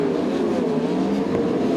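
Sprint cars race at the Valvoline Australian Sprintcar Grand Prix, a loud continuous engine roar from several cars held at high revs on the track, steady throughout without a break and with no voices.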